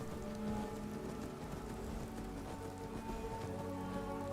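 Steady rain falling at midnight in Skyrim, a soft, even hiss of drops with faint tonal background music underneath, continuous and quiet without speech.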